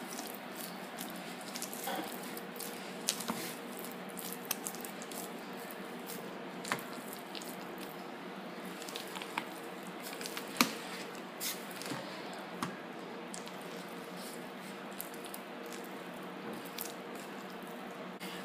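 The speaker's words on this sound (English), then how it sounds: "You're gonna mix to combine" Soft, wet squishing as alcapurria dough is mixed to combine, a quiet, continuous, close-up texture with occasional small clicks and no talking.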